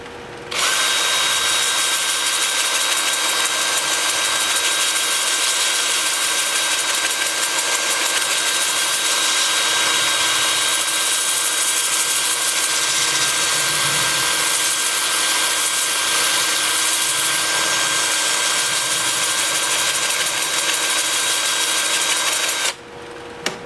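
A spinning wooden workpiece is sanded on a woodturning lathe, giving a steady, loud, continuous whirring hum with a bright abrasive hiss that runs unbroken for about twenty-three seconds before stopping abruptly.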